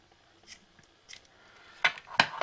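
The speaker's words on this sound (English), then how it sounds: "you might as well do a nice close trim because it's the only time you'll ever have to do it" Scissors trimming closely around a stamped image on paper: a few quiet snips, then two sharper, louder cuts near the end, close and alone.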